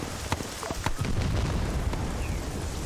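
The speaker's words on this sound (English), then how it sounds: "Enemy artillery." Enemy artillery shells exploding in a military video game, a few sharp booms early on followed by a heavy rumbling wash of blasts, loud and close.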